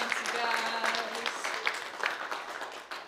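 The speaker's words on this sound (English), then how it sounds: "let's give a big round of applause for our support team there" An audience at a songwriters-in-the-round show applauds the support team, a moderate wash of clapping with some voices mixed in, steady at first and then thinning out.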